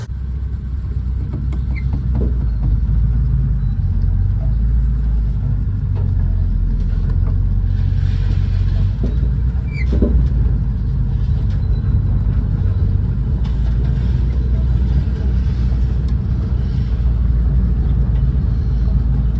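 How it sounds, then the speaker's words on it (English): Steady heavy road rumble of a vehicle towing a trailer rolling past nearby, with occasional clanks and rattles from the banging trailer over the continuous engine drone. "Guy going by in a trailer. I heard all that banging around."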